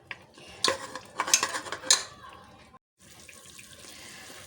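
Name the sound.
water poured into pressure cooker with meat and masala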